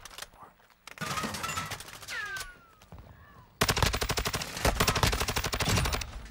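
Gunfire from a weapon in a video game, loud sustained bursts of rapid shots in the second half, with quieter game sounds and brief tonal chimes before.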